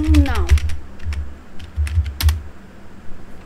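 Code being typed on a computer keyboard in a short run of quick clicking keystrokes, in clusters with brief pauses, close and clear, with a voice speaking over the start.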